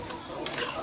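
Soft scraping and shuffling of a utensil stirring boiling kangkong adobo with pineapple chunks in a pan, faint and brief, with a gentle sizzle underneath.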